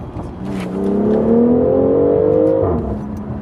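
A 2021 BMW X4 M40i with all-wheel drive, driven at night, roars as its engine rises in pitch through a loud rev, then drops sharply, heard up close from inside the car.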